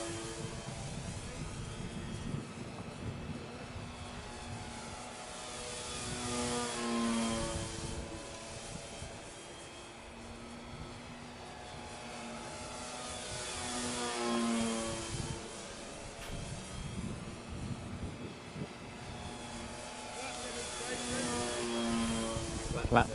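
A very light F4B model aircraft flies laps on a windy day, its small engine buzzing faintly from a distance and swelling and fading as it passes, while someone talks over it.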